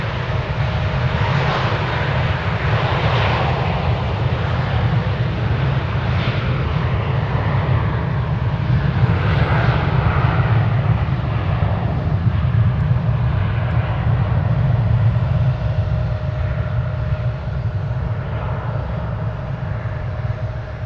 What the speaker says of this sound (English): American Airlines Flight 1395 from Minneapolis-St. Paul is just about to touch down. An Airbus A321.